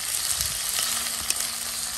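Onions fry in a pan with a steady, close, crackling sizzle and occasional soft stirring scrapes.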